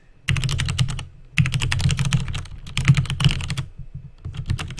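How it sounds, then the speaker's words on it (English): Rapid clattering keystrokes on a computer keyboard while a password is entered, close and loud, in two dense bursts separated by a brief pause, then a few scattered taps. "I'm typing in my password."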